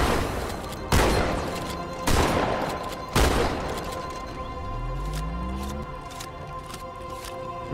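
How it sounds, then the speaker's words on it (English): Shotgun in Halo 2 Anniversary fires three loud, heavy blasts about a second apart, each decaying into a rumble, followed by a rising engine-like whine and scattered faint clicks. "Shotgun doesn't have the same oomph it had in Halo 1."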